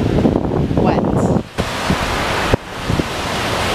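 Ocean waves wash onto a Miami beach, a steady broad roar of surf mixed with gusts of wind buffeting the microphone.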